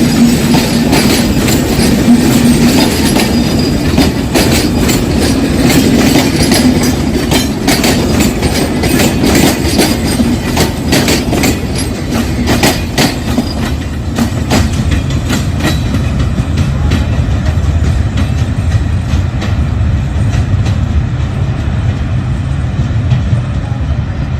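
A train crosses the Hardinge Bridge, a loud, close, continuous rumble with rapid rhythmic clickety-clack of wheels on the rails and some squeal, gradually easing toward the end.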